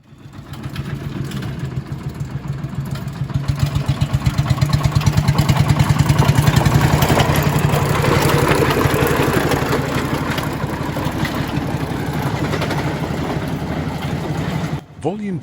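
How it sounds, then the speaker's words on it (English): Deutz diesel locomotive engine running in a head shunt, a loud throbbing diesel chug that builds, holds steady with a rhythmic pulse for most of the span, then cuts off sharply near the end. "We will just watch Ed take the loco up the head shunt again, at full volume"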